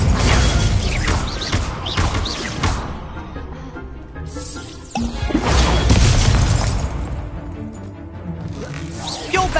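Incendio fire spell cast in the video game Hogwarts Legacy, heard as loud whooshing, crackling bursts that surge and fade in waves, with a short crash partway through and a voice briefly present.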